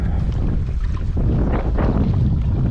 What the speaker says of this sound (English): the wind is picking